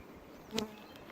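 Faint buzzing of honeybees being moved from a double hive into single hives, under a quiet hum, with one brief louder buzz as an insect passes close by.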